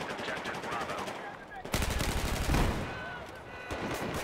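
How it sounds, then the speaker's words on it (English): Automatic weapon fire in the shooter game Battlefield 4 rattles in fast repeated bursts, growing louder around the middle with a heavier burst, while players talk faintly beneath. "Why are you shooting a teammate?"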